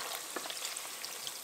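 Pork fat deep frying on low heat as lard renders, a steady close sizzle with fine popping crackles throughout, no voices.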